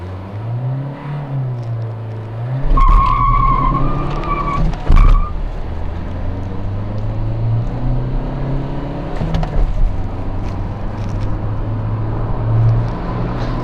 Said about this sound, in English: that wheel spin that you would have heard when we were starting off